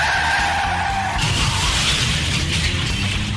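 Loud tire skid of a truck braking hard, a sustained screeching squeal that shifts higher partway through, heard alone as a radio-ad sound effect.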